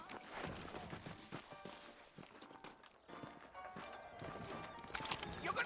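Horse hooves clip-clop in Red Dead Redemption, steady walking hoof beats with a whinny and some footstep thuds, moderately close under a busy game soundscape, no speech.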